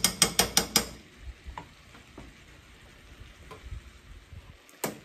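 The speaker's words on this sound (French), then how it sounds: "on remue et on laisse cuire tout doucement" A spoon knocks briskly against a pan, then flageolet beans simmer gently with soft stirring scrapes and a low sizzle, ending on one more sharp tap.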